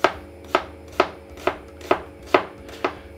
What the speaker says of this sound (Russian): нарезаем ее мелким кубиком